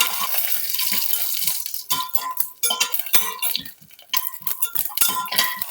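Cumin seeds and dried red chillies splutter in hot oil for rasam, with irregular sharp pops and crackles of varying loudness scattered close by.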